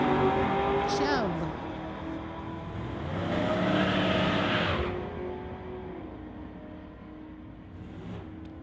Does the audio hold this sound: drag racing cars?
yes